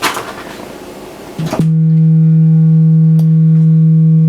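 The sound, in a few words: foldback distortion from waveshaper synth module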